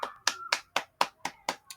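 Eight sharp hand claps at a steady, even pace, each a crisp close burst with silence between, no voices.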